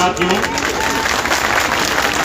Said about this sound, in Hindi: उनके नाम से जोरदार ताली बजा दीजिए